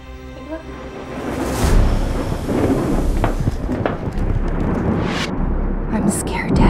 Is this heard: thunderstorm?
yes